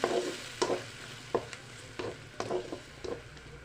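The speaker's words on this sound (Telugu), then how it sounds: "టమాటో ప్యూరీ బాగా కలుపుకుందామండి" Tomato puree is stirred into a fish curry in a frying pan, giving a quiet bed of sizzling broken by about eight sharp scraping strokes of a spoon in a loose, regular rhythm; no talking.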